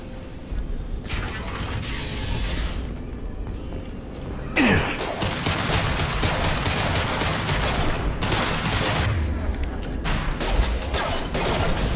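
Gunfire in the Mass Effect Legendary Edition shooter in a close-range fight, a dense, steady roar of shots and impacts across the whole stretch, with a sharp sweeping effect partway through and no clear talk.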